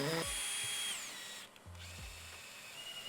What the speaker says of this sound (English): we're gonna go ahead and drill the holes in the ceiling.